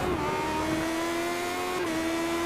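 Race cars lap the Twin Ring Motegi circuit in a retro racing series, one engine holding a steady loud drone with a slight pitch dip as it passes, constant and close with no talk.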